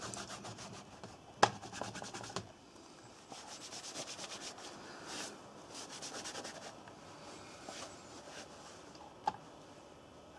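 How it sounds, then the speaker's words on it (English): Hand buffing of a Laplander-style leather sheath after rubbing in cream, steady close rubbing strokes with a few sharp knocks, outdoors, no talking. "Give that a good buff now,"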